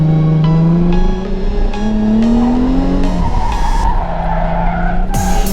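A race car on a circuit oversteers into a corner, tires squealing and skidding loudly while the engine drones and shifts pitch, heard close and continuous from start to finish.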